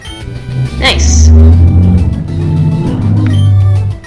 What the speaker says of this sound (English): what you just heard was a motorcycle passing